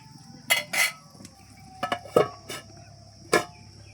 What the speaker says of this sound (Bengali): জল ফুটে গেছে, তো ভেজে রাখা মাছ দিয়ে দিব।